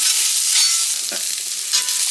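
Onions frying in a skillet, a bright continuous sizzle close by with a few stirring scrapes, no voices.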